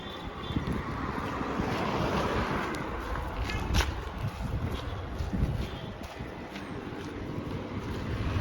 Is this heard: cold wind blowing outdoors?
yes